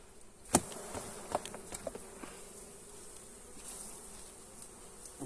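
Honeybees buzz steadily around an open hive during an inspection, a close, continuous hum with a few sharp knocks and taps early on from frames being handled, and no voices.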